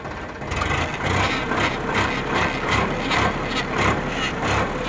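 A Sonalika DI 42 RX tractor's diesel engine idles nearby with a steady low rumble and a regular thumping pulse, loud and continuous throughout.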